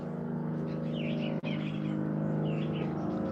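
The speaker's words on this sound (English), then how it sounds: "look, the birds are chirping" Small birds chirp and tweet outdoors in cold, snowy weather, with a few short high calls scattered over a steady low hum of background traffic or machinery.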